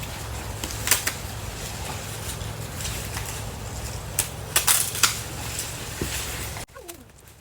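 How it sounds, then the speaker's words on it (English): Big plant stems are cut down while clearing a polytunnel in November, with scattered sharp snips and crunchy clicks over a steady low rumble, a few louder cuts near the end, and no talking. "We're going to cut it down. Take its big stems off."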